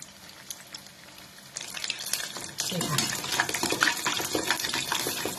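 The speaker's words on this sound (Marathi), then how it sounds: "गोल्डन कलरवर आता चांगला आपण तळून घेऊ" Potato poha vadas deep frying in hot oil over a high flame, a steady crackling sizzle that grows louder and denser midway, close up with no talk.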